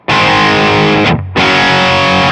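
Electric guitar through a Fulltone OCD overdrive pedal on its LP setting, captured on a Kemper profiling amp: two loud, sustained distorted chords, close and alone, separated by a brief dip as the first chord is released.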